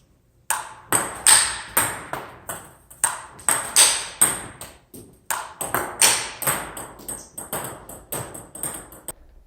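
Repeated sharp table tennis ball hits from penhold backhand smashes in a steady rally rhythm, crisp taps with bounces between, close and clear, no talking.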